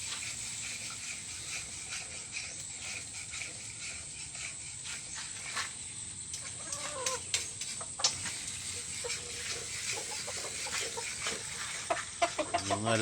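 Chickens cluck in a busy rural provincial yard, with scattered clucks and squawks over steady background noise and a few sharper knocks near the end.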